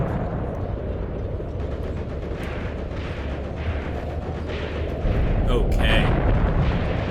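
Tank guns firing in the Tank Warfare: Tunisia 1943 game, a dense rumbling low roar of battle with heavy booms and a louder surge near the end, under occasional talk.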